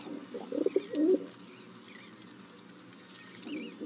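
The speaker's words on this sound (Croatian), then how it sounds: "glasa se svima dobro poznatim grlenim gukanjem koji zvuči ovako" A feral city pigeon gives a throaty, guttural coo, a short burst of rolling notes near the start followed by a softer phrase at the end, heard alone against quiet background noise.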